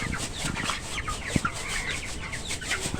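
21-day-old poultry chickens clucking and squawking continuously close by, with a steady barnyard murmur and one brief sharp knock partway through; no talking.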